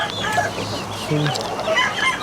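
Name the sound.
peacocks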